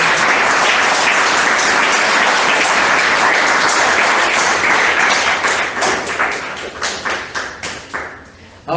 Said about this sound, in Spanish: con un aplauso bien grande para Él.